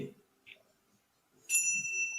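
A bright bell rings once at a beauty pageant presentation, a clear ringing tone that lingers after a few faint murmurs and soft background noises.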